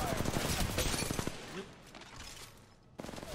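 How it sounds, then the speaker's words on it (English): Rapid automatic gunfire in the mobile shooter Apex Legends Mobile, loud bursts of close shots at the start, then a lull with faint background, and another burst at the end. "Opening fire."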